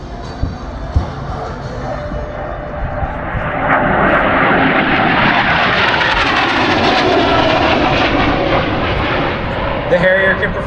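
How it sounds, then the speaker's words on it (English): A Harrier jet aircraft decelerates from high speed toward a hover during an air show demonstration at MCAS Cherry Point, its loud broadband engine roar swelling midway and holding steady, with faint crowd sounds beneath. "He'll be decelerating the aircraft from about 500 knots all the way down to 0 and coming in for the hover work after the brake."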